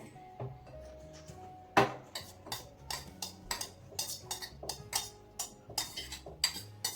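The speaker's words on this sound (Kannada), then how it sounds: "ಈಗ ಇಡ್ಲಿ ಹಿಟ್ಟಿಗೆ ಈ ಒಗ್ಗರಣೆ ಮಿಕ್ಸ್ ಮಾಡಬೇಕು" A spoon clinks repeatedly against a metal vessel in quick, irregular taps while something is stirred, close up and fairly quiet.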